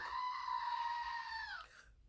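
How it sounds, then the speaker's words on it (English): A black goat lets out a single long, loud bleat lasting over a second, wavering and then dropping in pitch before cutting off, heard close with no talking over it. "You got big, and he's actually a black goat."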